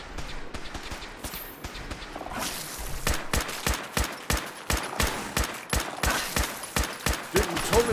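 Combat rifle gunfire in the video game Fallout 4: after a quieter stretch, a long run of sharp, evenly spaced shots cracks out at close range, loud and rhythmic, with a brief voice near the start.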